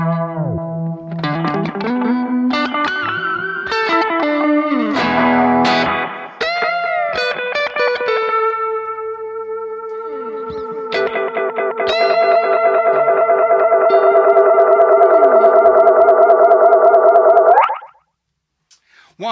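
Boss GT-1000 Core guitar processor running its Space Echo delay, with loud guitar notes and chords trailed by repeating echoes, then a long sustained, densely layered echo wash that cuts off abruptly near the end.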